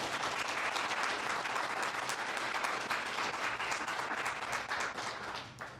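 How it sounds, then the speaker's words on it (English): Steady audience applause for a panel at an event on electric vehicle charging, a dense patter of many hands clapping at moderate loudness and continuing for several seconds with no speech. "How about a round of applause for our panel?"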